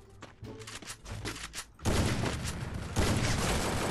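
Rapid bursts of gunfire from the Free Fire shooter game, starting as scattered shots and then erupting into dense continuous firing that grows louder.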